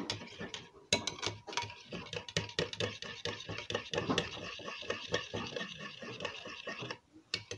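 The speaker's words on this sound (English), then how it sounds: "So I'll give this a good stir." Lemon body lotion mixture with milk being stirred in a small container, a busy stream of close clicking, tapping and scraping from the utensil against the sides, continuous and fairly loud, with no talking.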